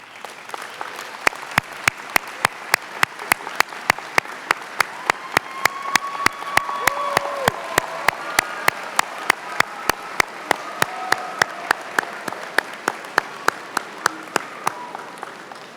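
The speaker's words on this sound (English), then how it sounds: "please stand so that we can recognize you with a round of applause" A university business school commencement audience applauds graduates with sustained crowd clapping, joined by sharp close hand claps at a steady beat, while faint voices murmur beneath the ovation.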